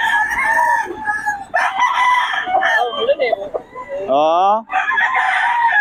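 An eleven-month-old gamecock stag crows several times nearby, hoarse rising calls mixed with clucks, while a person says a brief word.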